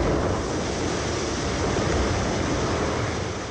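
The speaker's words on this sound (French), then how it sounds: "Il y a entre 30 et 35 nœuds, il y a des vagues, ça tape dans tous les sens" Storm at sea with 30 to 35 knot winds: a continuous, loud roar of crashing waves and buffeting wind noise on the microphone, steady throughout with no voices.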